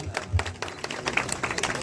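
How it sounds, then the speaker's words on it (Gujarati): Applause from a crowd greeting the opening of a grand temple ceremony for Agiyaras at the Habay Vagheshwari Mataji temple, with scattered clapping bursts rising and falling over a couple of seconds in a busy gathering. "જોરદાર તાળીઓના નાથે આપણે વધાવી લેશું"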